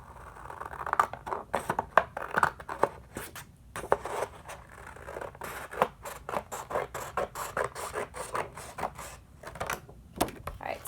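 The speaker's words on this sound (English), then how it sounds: "just cut across the middle of the paper hot dog style" Scissors snipping across a sheet of paper lengthwise into long strips, a run of quick, close, crisp cuts and rustling paper with irregular rhythm and brief pauses.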